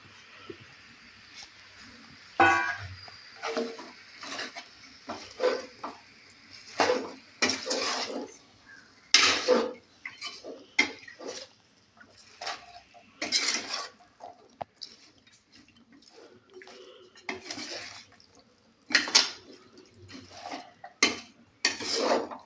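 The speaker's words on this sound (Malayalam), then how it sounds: "ഇതിലേക്ക് ഞാൻ ഈ സവാളയും കൂടെ യോജിപ്പിക്കുകയാണ്" Onion being stirred into chicken curry in a pan: a sparse run of clinks and scrapes from a spoon against metal, irregular and close, with quiet gaps between strokes and no talk.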